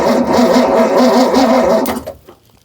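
A starter motor cranks the engine of a Ford F250 bullnose pickup with a loud, close, rhythmic churning whir for about two seconds, then cuts off and falls to near silence.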